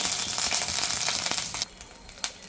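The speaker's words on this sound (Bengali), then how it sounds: "এবার আমি একটু থেতো করে রাখা আদা দিয়ে দেবো" Crushed ginger dropped into hot oil already crackling with panch phoron for a Bengali fish curry, giving a loud, steady sizzle that suddenly drops quieter partway through, with a brief spitting pop near the end.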